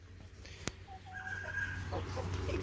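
A broody, aggressive hen sitting on a clutch of eggs gives short, low clucks and a brief rising call over steady farmyard background noise, with one sharp knock partway through.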